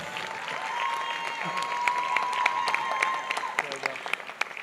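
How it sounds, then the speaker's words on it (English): An audience at a university commencement ceremony breaks into applause, a broad wash of many hands clapping at some distance that rises, holds and then thins into scattered claps, with a faint tone running beneath. "Can we get a bigger applause, please?"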